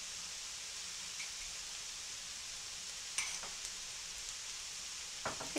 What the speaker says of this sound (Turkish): Kavurmaya devam ediyorum.